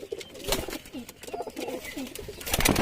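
Pet pigeons coo close by in soft repeated rolling calls, several low murmurs following one another over about three seconds.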